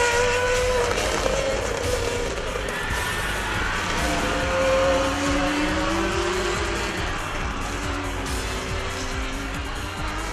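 A race car at Bushy Park circuit in Barbados passes the finish line during a CMRC round, its engine whining up and down in pitch against a broad wash of track noise, moderately loud and sustained.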